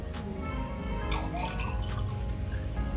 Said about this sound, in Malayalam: 2 ടെസ്റ്റ് ട്യൂബിൽ വെള്ളം നിറച്ചോളൂ, അത്യാവശ്യം നിറച്ച് എടുത്തോളൂ.